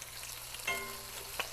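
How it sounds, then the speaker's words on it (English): Bacon frying in a pan gives a low, steady sizzle, with a brief louder hiss and clatter partway through as it is flipped, then a short scrape. "The bacon's looking good. I'm going to go ahead and flip it over."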